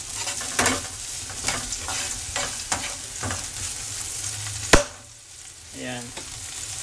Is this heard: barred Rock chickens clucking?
no